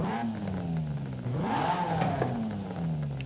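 A Honda car engine revs in Forza Horizon 5, a steady mid-pitched drone whose pitch dips and climbs again as the throttle is worked, fairly quiet and continuous with no voices.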